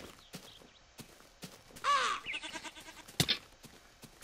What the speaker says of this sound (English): Why is this goat freaking knocking me everywhere?